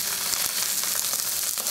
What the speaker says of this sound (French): Dans une poêle bien chaude, faites cuire le magret. On va commencer côté peau,